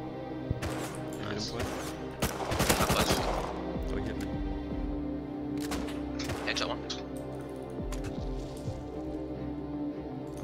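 AK rifle fire in the Rust video game crackles in quick bursts and scattered single shots, some close and sharp, others distant, while players talk over the action.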